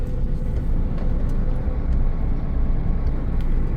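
Steady low engine rumble from a Mercedes Actros 4141 8x8 truck driving at night, a constant broadband drone with no breaks, close and fairly loud throughout.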